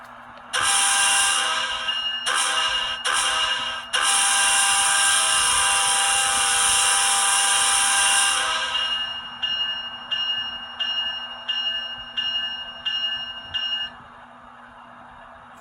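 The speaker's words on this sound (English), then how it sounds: "And when you do press the horn, the bell does come on." A ScaleTrains ET44 model locomotive sound decoder blows its horn in several loud blasts, short toots and then a long held chord, while the bell starts ringing underneath and carries on alone as a steady clanging after the horn stops.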